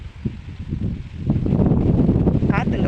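Strong wind buffeting the microphone in a village farm field, gusty low rumbling bursts that build and stay loud, with someone talking over it.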